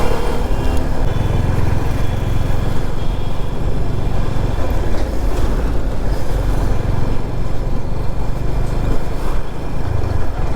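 Suzuki Gixxer SF 250 motorcycle riding over a rough road, its engine a steady loud low rumble mixed with road and wind noise for the whole stretch, with no talking.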